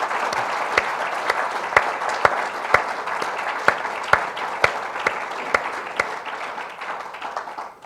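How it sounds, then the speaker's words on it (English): An audience applauds steadily and fairly close, a dense sustained clapping with a few sharper individual claps standing out at a regular pulse throughout. "would everybody give David and Charlotte Street a round of applause?"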